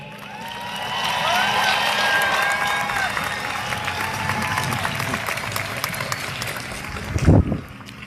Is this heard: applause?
yes